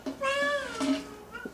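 A young child imitates a cat's meow with a drawn-out, wavering voiced cry, followed by a shorter second call, close and clear with no other talk.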